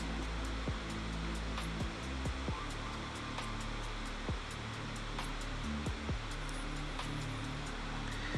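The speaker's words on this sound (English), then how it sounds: "you cut up to this little bit of metal with the jigsaw" A jigsaw cuts holes in the metal roof of a VW T6.1 van for a pop-top installation, a steady buzzing roar with rhythmic ticks, sustained and close throughout.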